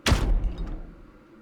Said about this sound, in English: we heard the door begin to open